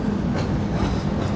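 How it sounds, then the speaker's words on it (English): A subway train running at street level in the middle of the road, a steady rumbling roll with faint clickety-clack of wheels, moderately close and continuous, with no talking. "I like the subway, like right in the middle of the right in the middle of the street there."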